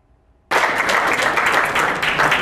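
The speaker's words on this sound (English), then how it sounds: "Thank you for the applause." After near silence, audience applause at a digital transformation event bursts in abruptly and continues as loud, dense, steady clapping from a large crowd.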